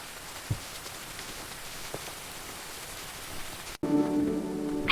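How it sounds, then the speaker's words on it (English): Heavy rain falls in a steady, dense hiss with a few louder drops, then cuts to a brighter, closer wash of water near the end. "It is raining so much today."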